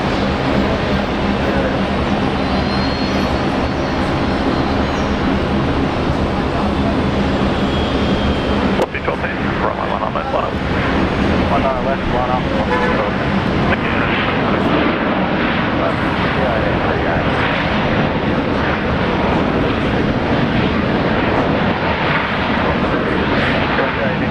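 An airliner taking off from runway 19 right at Brisbane Airport, a long broad continuous roar of jet engines building and holding, with radio talk over it.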